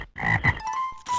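Cartoonish frog croak effect from the trivia game You Don't Know Jack, a short sequence of throaty croaks ending in a sustained tonal ribbit, clear and alone.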